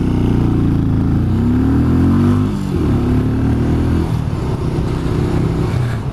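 A 2020 Benelli 400 Imperiale motorcycle pulls hard through the gears, its single-cylinder engine note rising in pitch, dropping at a shift and climbing again, loud and close throughout.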